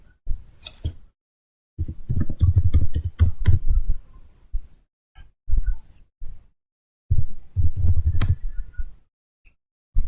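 A computer keyboard clacks as a spanning tree priority command is typed for a network switch, with quick clusters of close, crisp keystrokes separated by short silent pauses.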